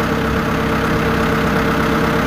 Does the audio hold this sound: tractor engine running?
yes